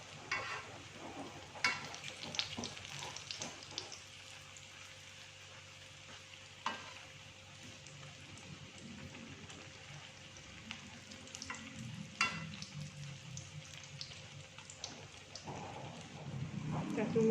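Instant noodle fritters (bakwan) fry in oil, giving a faint, steady sizzle with occasional utensil clicks and scrapes, while someone talks over the cooking.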